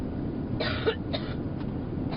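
A short series of coughs, several dry hacks in quick succession, heard fairly close with no talking.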